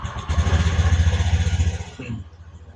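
A Honda Beat Deluxe scooter engine runs with a fast, pulsing putter close by for about two seconds, then drops away abruptly as it cuts out.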